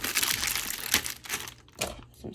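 Sealed plastic wrap being peeled and torn off a pink-paper happy mail package of financial planner papers, giving close, loud crinkling and rustling bursts that come and go in uneven pulses.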